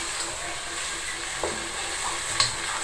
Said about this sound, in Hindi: खूब अच्छा सा हमने इसको चिकन को भूनना है।